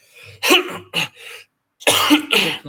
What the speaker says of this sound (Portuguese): Tô com um pouquinho de tosse.